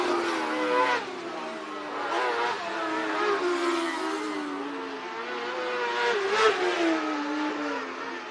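Race cars on the final lap of a heat at Marion County Speedway, a bullring track, rise and fall in a loud wailing engine drone as they rev through the corners, with fainter overlapping engines behind.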